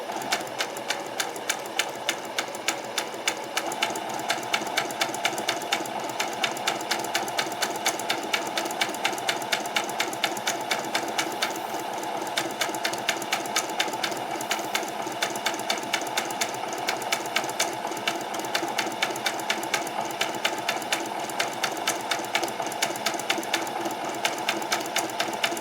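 A sewing machine stitches a peasant skirt, its needle hammering out a fast, steady mechanical rhythm close by, running continuously without pause.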